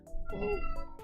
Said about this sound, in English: My cat is going meow.